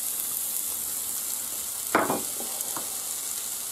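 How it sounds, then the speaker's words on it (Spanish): Chopped onion tipped into hot oil in a frying pan for a baked chorizo macaroni dish, a steady broadband sizzle throughout with a brief louder burst and clatter as the onion lands, then continuing hiss with a few small stirring knocks; no talking. "Ya se ha calentado el aceite y ahora echamos la cebolla"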